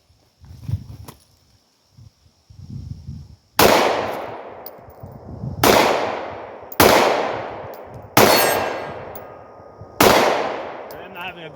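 Glock 17 pistol firing five sharp, loud shots spaced roughly a second and a half apart, each with a ringing decay, after a stretch of handling noise and low muffled voices.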